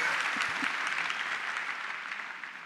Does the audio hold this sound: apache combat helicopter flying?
no